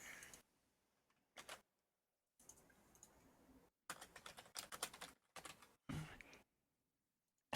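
A site name is typed on a computer keyboard in short, quiet bursts of close key clicks separated by silent gaps.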